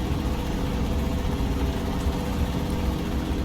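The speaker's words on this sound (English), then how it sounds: "It is a tuned engine, but old style Cummins." Steady, low rumbling drone of the old-style tuned Cummins engine in a Kenworth 521 needlenose truck with a Spicer 4x4 twin-stick gearbox in a trucking simulator game, running continuously and evenly with no talk.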